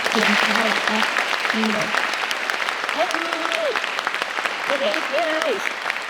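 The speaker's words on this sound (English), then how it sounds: "please, let's give a round of applause" A high school audience applauds, clapping continuing under a voice that speaks intermittently over it.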